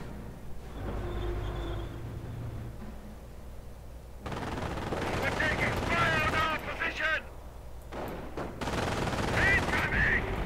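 Gunfire in the Company of Heroes strategy game, with a sniper picking at infantry: repeated sharp shots and bursts mixed with battlefield rumble, fairly loud, under someone talking over much of it.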